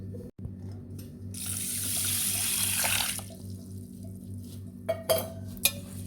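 Running water pours over sago for a couple of seconds with a hissing splash, then stops, followed by a few light clinks and scrapes over a low hum.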